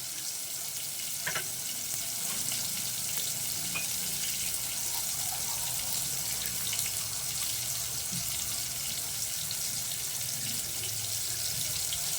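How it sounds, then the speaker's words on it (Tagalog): Water runs steadily into a cooking pot for several seconds, about one and a half cups, a continuous close pouring hiss with faint sizzling underneath. "pwede na natin lagyan ng tubig yan"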